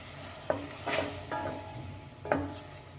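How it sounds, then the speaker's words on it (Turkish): Onions, peppers and tomatoes are stirred in a sizzling pan for a green bean türlü stew: a soft continuous fry with three or four distinct scraping strokes of the spoon, close and without speech. "Biberlerimizi kattıktan sonra domatesimizi katıyoruz ve karıştırıyoruz."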